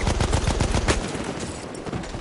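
Rapid automatic gunfire in the video game Battlefield 1 rattles off in a fast close burst for about a second, then trails into fainter scattered shots and echoing battle noise.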